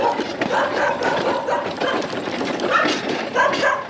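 Dogs bark in repeated bursts, somewhat distant, heard at night from a moving electric chopper motorcycle, over a noisy outdoor background.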